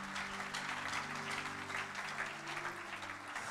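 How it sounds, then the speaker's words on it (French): A congregation at a French-English church service claps together for Jesus, a dense, steady wash of applause from many hands that carries through the whole moment without a break. "Let us clap for Jesus."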